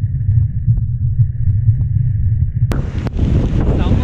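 Aagaya Gangai waterfall in the Kolli Hills, heavy spray roaring as a steady low rush, with the mic buffeted by wind; a couple of sharp clicks occur midway, followed by a brighter, louder hiss of water.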